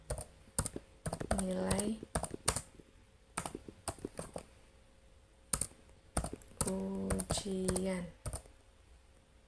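Keys clatter on a computer keyboard in irregular bursts of close clicks and taps, with a person talking quietly over parts of it.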